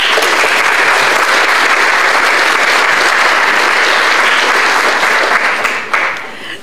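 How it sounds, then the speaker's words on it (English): Sustained audience applause fills a community breakfast room, dense and steady clapping throughout before tapering off in the final second. "We got to keep clapping and keep the momentum going."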